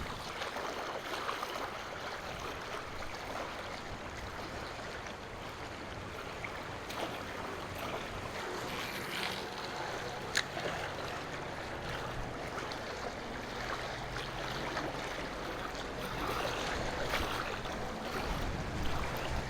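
Boats moving along the Rogue River in a remote wild stretch, heard as a steady broadband wash of water and distant motor noise running the whole time, with no voices.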